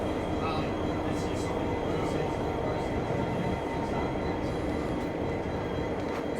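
A locomotive-hauled train at Strathfield station rumbles steadily past at close range, a continuous loud rolling roar of wheels and engine with faint squeals, and voices murmuring now and then underneath.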